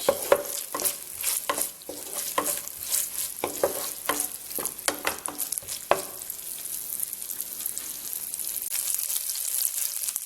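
Butter stirred in a hot pan with green chilies, curry leaves and pandan leaves for stir-fry chicken noodles: steady sizzling and frying under repeated scraping strokes of a spoon or spatula, close and fairly busy, no talking.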